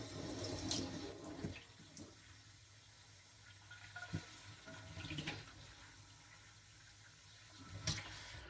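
A sharpened kitchen knife rinsed under a running tap, quiet gushing water with splashes and a few knocks and clatters, close and faint with no speech.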